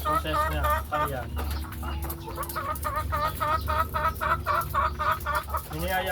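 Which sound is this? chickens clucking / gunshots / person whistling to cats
chickens clucking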